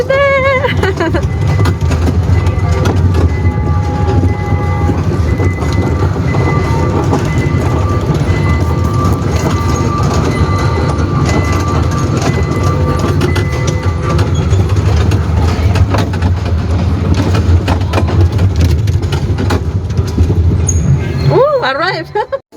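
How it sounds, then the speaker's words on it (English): Continuous low rumble and rattle of a train riding on rails, heard from inside the carriage, steady and loud for the whole stretch with faint squeals, fading at the end as a voice speaks. "This is the first time that we tried the train."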